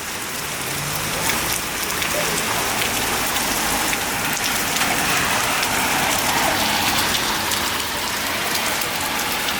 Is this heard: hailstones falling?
yes